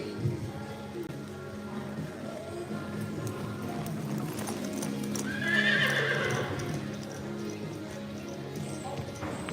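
Hooves clip-clop steadily on ground at a youth reining and cattle boxing competition while a horse gives a loud whinny midway, with faint background voices.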